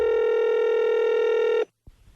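A telephone tone for a prank call on a radio show, one sustained steady multi-tone beep lasting about a second and a half that cuts off abruptly, followed by a brief click.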